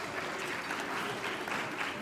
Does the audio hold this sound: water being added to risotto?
no